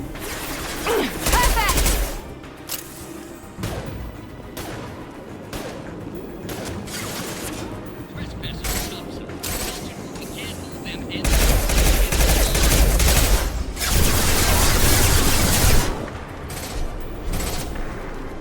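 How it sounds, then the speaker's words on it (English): High-impact gunshots in Mass Effect 2 Legendary Edition fire in heavy bursts, booming loudest toward the later stretch, interspersed with quieter mechanical clatter and some voices underneath. "Firing a high-impact shot."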